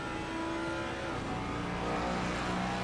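Ford GT3 race car engine on a straight at Suzuka in Assetto Corsa Competizione, a steady, loud, sustained high-revving drone that climbs slightly in pitch as the car accelerates.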